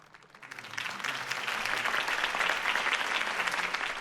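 Steady applause from a crowd in Batman: The Telltale Series swells within the first second and keeps going at full strength, dense clapping with no voices standing out.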